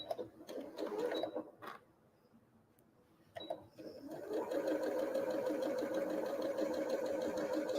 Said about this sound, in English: we're going to sew right along